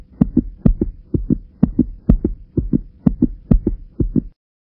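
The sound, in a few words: heartbeat sound effect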